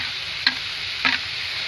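Shredded chicken with green chillies is stirred in a hot pan: a steady sizzling hiss with two quick scraping strokes of a spoon, close up.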